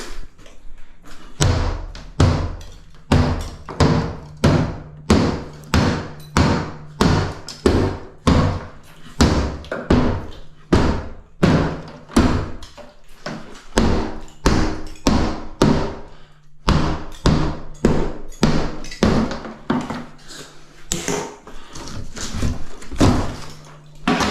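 A big hammer pounds repeatedly during a bathroom strip-out, dozens of loud, heavy thuds in an uneven but steady rhythm, close by, with a short pause midway before the blows resume.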